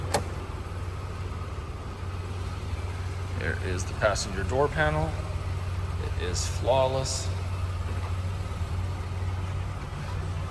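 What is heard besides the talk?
1991 Oldsmobile Cutlass Supreme engine idling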